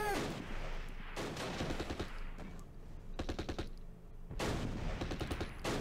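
In a WWII tactical video game battle at Arnhem, bursts of machine gun fire and rattling gunshots come in repeated volleys separated by short pauses, fairly close, with no talking.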